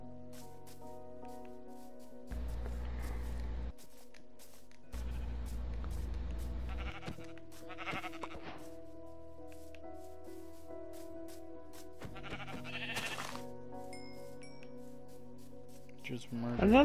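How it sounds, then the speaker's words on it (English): Sheep in the Minecraft video game bleat in several short bursts between stretches of background game music, fairly close and clear. "Found two sheep."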